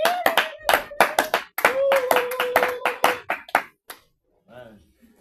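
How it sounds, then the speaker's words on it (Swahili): A church congregation claps rhythmically for Jesus in quick bursts while a sustained voice rings over the claps. The clapping stops abruptly near the end, and a brief voice follows. "Pigia Yesu makofi sana."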